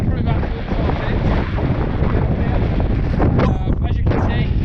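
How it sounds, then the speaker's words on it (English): Strong wind roars without pause across the summit of Cribyn, the third peak of the Pen y Fan horseshoe in Bannau Brycheiniog, buffeting the microphone with loud, dense gusts that surge near the end. "it's still really windy"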